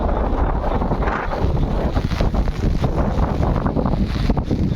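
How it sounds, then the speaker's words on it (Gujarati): Loud, blustery wind buffeting the microphone with a dense rushing roar of continuing rain, continuous and close, with no talking. "જોઈ શકો છો વાયરો પવન ને વરસાદ પણ હજી ચાલુ"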